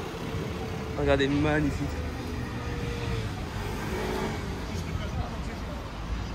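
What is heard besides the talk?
Ferrari sports car engine driving past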